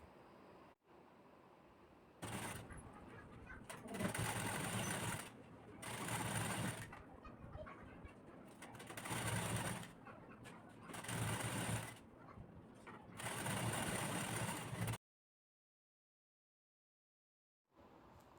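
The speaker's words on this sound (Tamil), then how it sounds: "அதுக்கு மேலே ஒரு மடிப்பு மடித்து ஸ்டிச் பண்ணுங்கள்" A sewing machine stitches a folded blouse hem in several bursts of fast, whirring running stitches separated by brief pauses, fairly quiet and close, followed by a stretch of silence.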